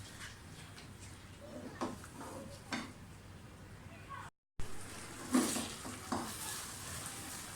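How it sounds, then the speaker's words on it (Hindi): A semolina and milk mixture being stirred and roasted in a pan for halwa, with a faint steady sizzle and scraping spoon strokes against the pan, the sizzle dropping out for a moment midway. "सूजी और दूध के मिक्सर को मुसलसल भूनते जाएं"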